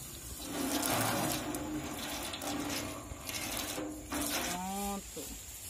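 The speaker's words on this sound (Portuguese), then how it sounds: "Bate mais uma água aqui." Water is splashed and sloshed while cleaning out a sheep pen, with bursts of pouring and splashing, some clattering, and a brief sheep bleat near the end.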